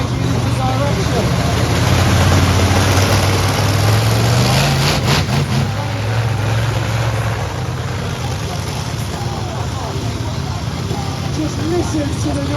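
Twin 9.5-litre, 1800-horsepower Chevy Big Block V8 engines of a drift truck at a live arena speed show, a loud continuous roar with shifting revs throughout, close and steady.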